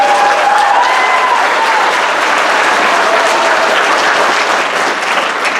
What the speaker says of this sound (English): a big round of applause for the band who played tonight.